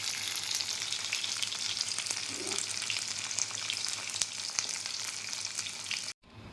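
Brinjal pieces frying in hot oil for a brinjal masala curry, a dense, continuous close sizzle with small pops and occasional stirring, cutting off abruptly at the end.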